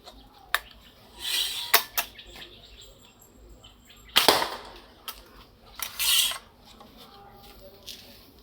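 Shot fired at a target from a homemade 80 cm slide-barrel gun in Surinam, Thailand, heard as a few sharp, loud cracks and snaps standing out against a quiet background, with scattered smaller clicks between them.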